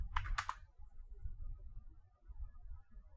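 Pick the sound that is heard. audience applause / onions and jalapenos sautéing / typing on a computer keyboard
typing on a computer keyboard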